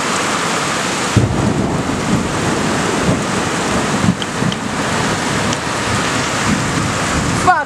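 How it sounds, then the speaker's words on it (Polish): Heavy downpour drums steadily through a thunderstorm over Kunów, Poland, with close thunder rumbling throughout and sharper cracks standing out near 1 s and 4 s. "A tu taka ulewa."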